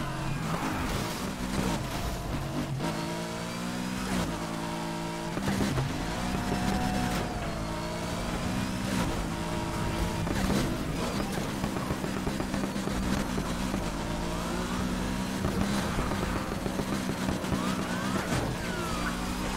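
A BMW 3 Series in the racing game NFS Heat, pursued by police, with a loud engine revving through shifting gears and bursts of tire squeal, under a steady roar with siren-like wails and no clear talk.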